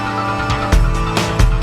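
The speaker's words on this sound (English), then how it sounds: "I forgot that we made drums on the Deluge." Drum pattern programmed on a Synthstrom Deluge groovebox, punchy kick hits thumping under a dense electronic mix with snare-like bursts, loud and steady with no voices.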